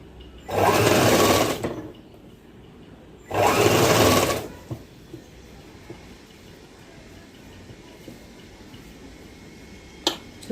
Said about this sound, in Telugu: నెక్క మడత ఈ విధంగా కుట్టనేది వేసుకుంటూ రండి